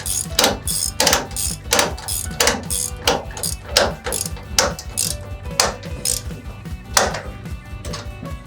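A winch ratchet on a two-car stacker tightening a strap, sharp repeated clicks in a steady rhythm of about two per second, loud and close with metallic mechanism noise underneath.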